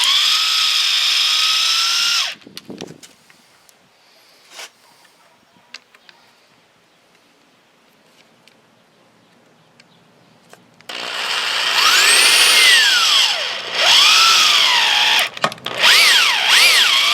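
A power drill drives wood screws into 2x4 boards for a homemade steel target stand, with a short whirring burst, a quiet stretch of faint handling clicks, then longer revving runs whose pitch rises and falls as each screw seats.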